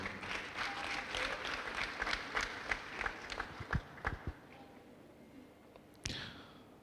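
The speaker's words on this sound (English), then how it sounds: "I would think the chairman of the council deserves a louder round of applause." Audience applause at a medical council pledge-taking ceremony, a fairly faint round of scattered claps for the council chairman that thins out into a few isolated claps before a brief louder burst near the end.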